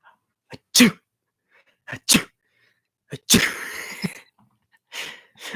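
Three sharp sneezes in quick succession, close and loud, separated by short breathy pauses and a gasp.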